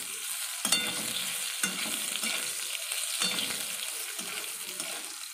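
Fried potatoes and five-spice seeds sizzle in a pan while being stirred, with a steady hiss broken by several sharp scraping strokes of a spatula, close by and without talk.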